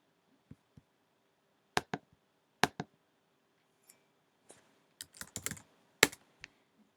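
Computer keyboard keys tapped in short, sparse bursts while entering a password on an old machine running Linux Mint, crisp close clicks with pauses between them in a quiet room.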